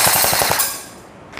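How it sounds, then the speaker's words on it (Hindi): A Colt AR-15 M4 CQB-R airsoft rifle fires on full auto in a short, rapid burst of sharp mechanical cracks, loud and close, that stops after about half a second and leaves a fading ring. "अब ऑटो में चला रहा हूँ मैं। अब चेक करिए इसका फायर"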